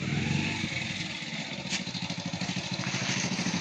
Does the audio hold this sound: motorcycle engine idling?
yes